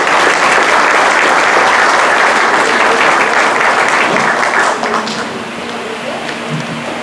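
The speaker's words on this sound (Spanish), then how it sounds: "con un cálido aplauso recibamos al señor Antonio Escudero Caldas" Warm applause from an audience in a formal auditorium ceremony at the Club Ancash, welcoming a speaker; dense, loud steady clapping that thins and softens near the end.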